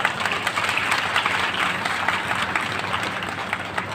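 Audience applause at a Kabir Math centenary ceremony in Dharmnagar, Nadia, steady dense clapping from a crowd filling the whole stretch, fairly loud with no break.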